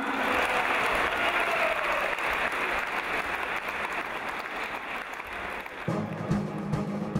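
Sustained audience applause welcomes an Armenian singer onto the stage at a 2017 concert, an even wash of clapping heard from a distance.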